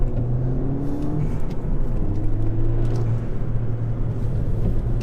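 A 2015 stage 1 Ford Fiesta ST hot hatch drives a wet road, its engine humming and revving with steady road rumble throughout, heard from inside the car without talk.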